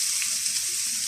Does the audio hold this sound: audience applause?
no